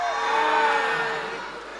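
A packed hall crowd cheering and shouting in a sustained roar that swells, then fades slightly. Individual claps are hard to pick out.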